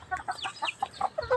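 Chickens cluck in a quick series of short, close calls, with no speech over them.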